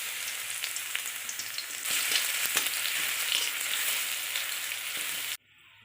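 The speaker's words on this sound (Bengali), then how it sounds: "তো রসুনটা দেখো একদম পুরো ভাজা হবে না, আর একদম কাঁচাও থাকবে না, মিডিয়াম ভাজা হবে" Crushed garlic sizzles in hot oil in a pan, a steady, close, crackling hiss that runs evenly and then cuts off abruptly near the end, with no voices.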